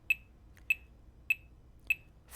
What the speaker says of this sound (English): here I have my metronome set at 100.